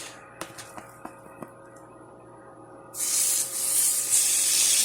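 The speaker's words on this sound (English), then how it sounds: "that's how you want to hear that sizzle" A few sharp taps and clicks, then a loud, steady sizzle erupts as meat hits a hot pan and keeps hissing close by.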